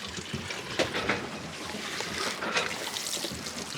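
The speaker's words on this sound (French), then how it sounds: "on transvase les 50 litres qu'il y a dans cette vache à eau là dans la vache principale" Fifty litres of water transferred from a flexible water bladder into the main tank linked to the tap aboard a sailboat, a steady rushing trickle over continuous broadband boat and sea noise, fairly close, no talking.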